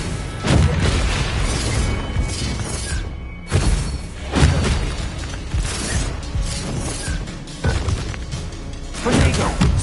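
Spell explosions and blasts in the Hogwarts Legacy video game: loud repeated booms and crashing impacts in dense bursts, with a mechanical clatter between them and short gaps of near silence.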